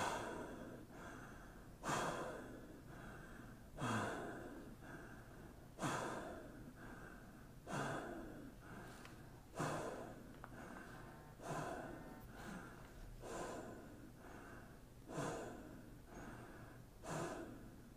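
Slow, deep inhalations during a guided breathing exercise, heard as soft, airy breaths that swell and fade in a steady rhythm about every two seconds, close and quiet with no talking.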